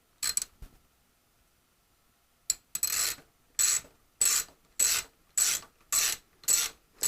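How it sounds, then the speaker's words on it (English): A ratchet wrench tightens bolts on an EFS tapping tee strap, first in a few quick clicks, then in a steady series of about eight rasping ratchet strokes, close and crisp. "you go ahead and you just tighten up those bolts right down to the stops"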